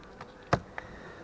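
Bees at a beehive opened while the nest is arranged for winter buzz faintly in the background, with a few short louder bursts as insects pass close to the microphone; no speech.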